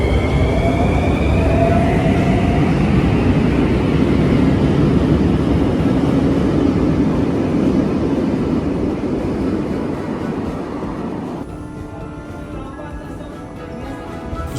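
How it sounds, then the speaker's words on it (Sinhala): A metro train in a Romanian station, loud rushing rumble and screeching wheel tones as it runs, fading as it pulls away toward the end. "මේ ඔයාලට පේන්නේ මම ආපු මෙට්‍රෝ එක."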